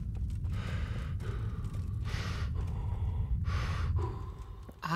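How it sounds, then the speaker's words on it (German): A character in the video game Kingdom Come: Deliverance breathes heavily in repeated gasps and sighing exhalations, roughly four or five strong breaths over low rumbling background, close and prominent with no talking. "Atmen, Heinrich. Atmen"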